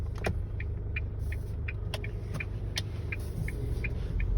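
A 2022 Isuzu Mu-X idles with a low steady engine rumble and hum while setting off, with faint clicks on top and a slight rise in rumble toward the end.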